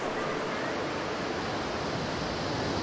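Rapids on the Niagara River rush in a dense, loud, unbroken roar of churning whitewater, steady and close with no pauses or voices.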